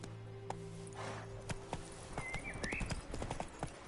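Roach, a horse in The Witcher 3, trots with clear rhythmic hoof clip-clops that grow denser and closer. A short whinny cuts in midway, with faint background hum and no talk.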